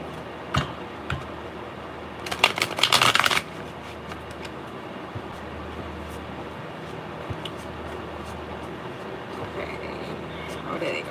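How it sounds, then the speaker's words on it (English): Oracle cards riffled and dealt: a single loud burst of rapid shuffling flutter lasting about a second, surrounded by scattered soft taps and card snaps against a quiet room. "I dealt some moon magic cards"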